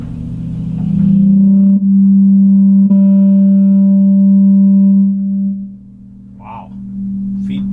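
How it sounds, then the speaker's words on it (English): A fake Gibson electric guitar plugged into an amp howls with pickup feedback, a loud sustained droning tone that holds for several seconds, then fades before a short pluck. "Feedbacky pickups."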